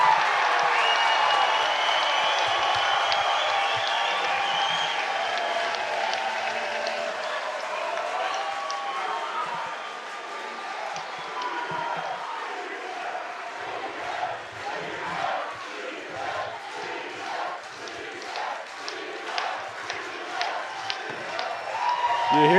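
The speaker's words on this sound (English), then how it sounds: "You hear the Cleveland chants there in the crowd" Baseball crowd at an IBL finals game chants rhythmically for Cleveland, a loud sustained roar that breaks into repeated pulsing shouts and claps, with an announcer talking over it.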